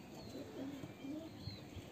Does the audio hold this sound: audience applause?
no